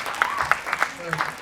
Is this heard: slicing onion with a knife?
no